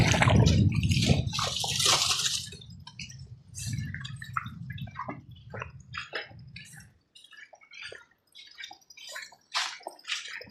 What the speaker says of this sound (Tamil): எவ்வளோ தண்ணி ஓடினே இதில் பத்திட்டு தானே